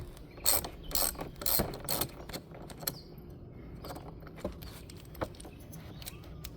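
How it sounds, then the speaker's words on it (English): A ratchet wrench loosening the battery terminal on a 2025 Jeep Wrangler 2.0, with rapid clicking ratchet bursts up close at first, then sparser metallic clicks and taps trailing off. "Maybe loosen that a little more, actually."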